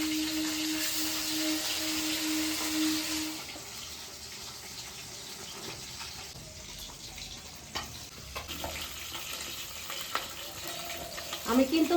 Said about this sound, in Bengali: আমি মাছটাকে তেলের মধ্যে ছেড়ে দেবো।